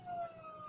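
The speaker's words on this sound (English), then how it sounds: "Police siren." A police siren in a classic film-noir radio drama gives a single brief, wavering tone that sounds distant and faint.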